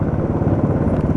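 A Royal Enfield Bullet 500 motorcycle rides through Jaipur with a loud, close, low thumping engine rumble that pulses rapidly and evenly throughout.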